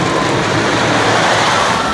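Dense rushing roar from the wooden roller coaster El Toro running on polyurethane wheels, a steady loud broadband rumble filling the whole moment with no clear pauses.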